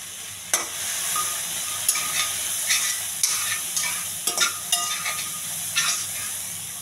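Tempering of green chillies, chilli powder and turmeric in hot oil for a fried peas dish: a steady bright sizzle with scattered crackles and spoon-scrapes, close and fairly loud, with no voices.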